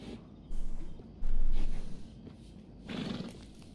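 Horse in the Red Dead Redemption 2 video game, snorting and whinnying in a few loud bursts over a low, steady background rumble, with no talking.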